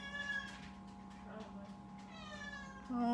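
A cat meows in several drawn-out cries, faint to moderate, under a steady low hum, with a person talking over parts of it.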